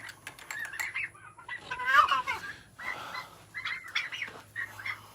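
Turkeys gobbling on a small farm near a chicken tractor, several close, loud rattling gobbles and clucks in quick succession, with brief talk between them.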